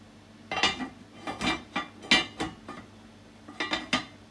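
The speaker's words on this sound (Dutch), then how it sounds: "Deksel erop." A metal lid is set onto a cooking pot of Tom Kha with cod, producing several close clinks and clatters of metal on metal in quick, irregular succession.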